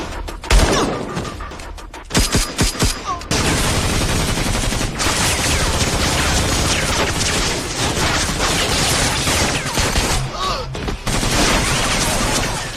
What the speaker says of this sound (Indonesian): Khalid yang kaget karena mendengar suara tembakan